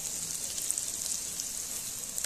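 Chili flakes fry in oil in a pan while a coconut chicken curry is being cooked, giving a steady, close hiss and crackle that runs unbroken and even throughout.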